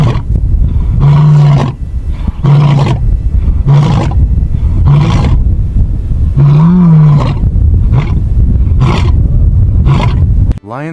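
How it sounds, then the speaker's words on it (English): A lion roars on the savannah in a rhythmic series of deep, loud grunting bursts spaced about a second apart, close and powerful with some wind noise. "The lion's roar, a primal and haunting call, is one of the most distinctive sounds of the savannah."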